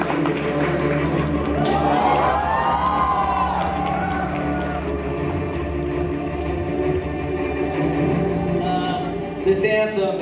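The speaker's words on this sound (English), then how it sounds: "Please give a huge round of applause" A crowd at an Avengers Endgame press event and fan meet in India cheers and whoops loudly, with rising shouts over a steady roar of clapping and crowd noise.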